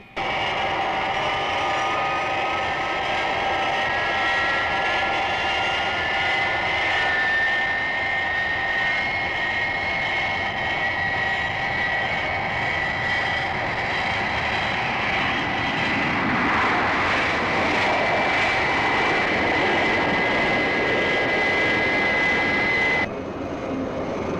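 A jet aircraft roars steadily with a high whining engine tone in a Thunderbirds episode, swelling into a louder rushing blast as it passes through the sound barrier before cutting off abruptly near the end.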